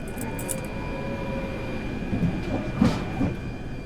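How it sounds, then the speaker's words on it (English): In the Train Sim World game, a train sits under a steady low rumble with faint tonal hum, and a couple of soft thuds and clunks from the closing door come near the end. "Okay, close the train door."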